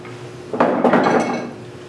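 Woodturning tools being put away, setting off a short burst of metallic clatter and clinks about a second long that stands out against a quiet workshop background.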